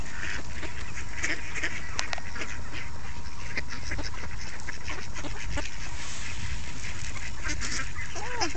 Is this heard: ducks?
yes